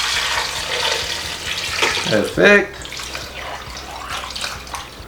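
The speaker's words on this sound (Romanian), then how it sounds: "acopăr sfecla cu apă normală de la robinet" Tap water runs into a roomy pot of washed beetroot in a home kitchen, a steady splashing rush with a louder gush midway, under a single short spoken word.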